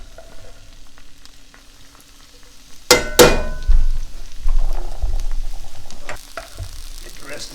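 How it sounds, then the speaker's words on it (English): Kimchi drops into a hot pan and begins to sizzle and crackle, with a sharp burst followed by a steady, close frying hiss and some clatter of stirring. "Okay, starting to get some sizzle."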